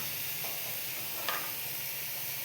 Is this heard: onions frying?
yes